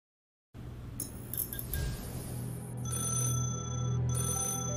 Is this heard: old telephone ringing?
yes